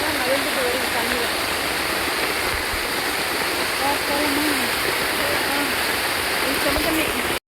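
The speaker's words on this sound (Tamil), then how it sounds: "தண்ணி எப்படி போகுது பாருங்க, ஓடையெல்லாம் ஃபுல்லாக பூந்து" A small village stream swollen by heavy rain rushes past in a steady, dense wash of flowing water. A voice talks faintly underneath.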